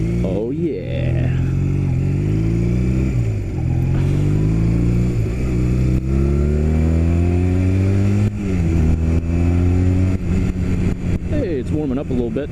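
Motorcycle engine running steadily while riding on a street, with rising and falling pitch as it accelerates and shifts, loud and close throughout under someone talking.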